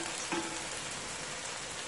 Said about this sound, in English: This has to fry golden brown.